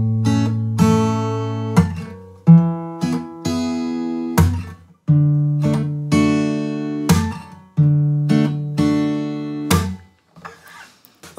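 Acoustic guitar playing the verse of a song: steady strummed chords ring out in a regular rhythm with short muted strokes between them, close and clear, with no voice.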